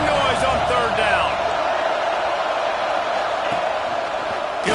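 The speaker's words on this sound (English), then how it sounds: "This dog crowd is off the leash, and they are coming after them, bringing noise on third down." A football stadium crowd roars on third down in an Ohio State versus Georgia game, a dense sustained wall of cheering and whooping with a commentator talking over it.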